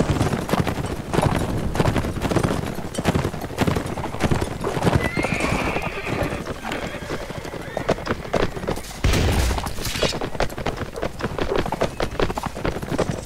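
Horses gallop with steady clip-clop hoofbeats and repeated neighs in the medieval combat game Mount and Blade Warband, loud and close amid battle noise, with some speech mixed in.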